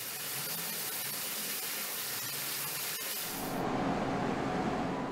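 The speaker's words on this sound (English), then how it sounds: "Painters maintain precise standards for unique liveries while achieving uniform coverage using electrostatic spray equipment and sophisticated sanders." Electrostatic spray equipment hisses steadily in a factory painting commercial aircraft, a broad continuous spray that shifts to a different, softer hiss partway through, with no voices.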